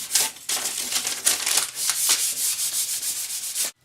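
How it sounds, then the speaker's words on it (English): Scrap paper rubbed briskly over a wood stain finish, a close, rapid rasping swish in quick repeated strokes that runs almost continuously before stopping abruptly. "I'm just going to take the clean side of a piece of scrap of paper and rub that on the finish"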